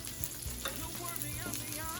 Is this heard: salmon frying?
yes